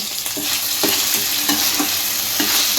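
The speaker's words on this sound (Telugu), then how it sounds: "చూడండి ఇలా బాగా వేగింది" Tomato pieces fry in a pan for egg biryani, a steady close sizzle broken by repeated scraping stirs at a loose, uneven rhythm, with no one talking.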